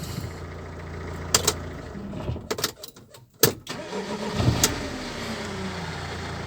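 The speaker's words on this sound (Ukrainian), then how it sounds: "пробуємо глушимо машину, заводимо повторно" A 2007 Mercedes Sprinter van engine is cranked and restarted, with sharp clicks and starter bursts, a brief stall-like gap, then the engine catching and running steadily up close.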